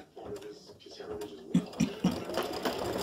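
An embroidery sewing machine runs a line stitch around a design on fabric, giving a soft, uneven mechanical whir with a few sharp thumps near the middle, heard under a person talking.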